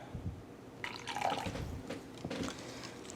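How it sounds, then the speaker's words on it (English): A little water poured into sesame noodle sauce while cooking, heard as faint, close splashing and trickling in a quiet kitchen, with a few soft bursts of pouring. "I'm adding a little bit of water."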